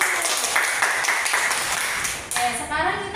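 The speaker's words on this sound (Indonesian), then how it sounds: "tepuk tangan dulu" A classroom of students claps together in a steady, dense round of applause that tapers off near the end, with a voice speaking over it.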